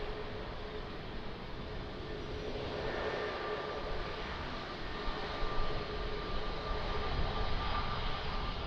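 An airplane takes off at Lisbon Airport, its engine roar a broad, steady rumble with a faint whine that swells gradually and grows louder toward the end, heard at a distance.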